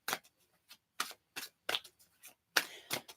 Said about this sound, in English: Shuffle these cards for you,